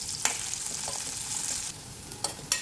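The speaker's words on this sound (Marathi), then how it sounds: "तांबूस होईपर्यंत हा कांदा आपल्याला परतून घ्यायचा आहे" Chopped onion with cumin and curry leaves sautés in a pan for vegetable daliya upma, giving a steady, gentle sizzle with scraping stir strokes and a couple of sharp spoon clicks near the end.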